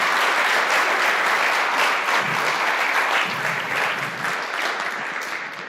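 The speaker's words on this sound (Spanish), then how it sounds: "Un aplauso para Daniel, muchas gracias" Steady audience applause following a presentation at a game developer meetup, a dense wash of many hands clapping that holds evenly, then tapers slightly near the end, with no talk over it.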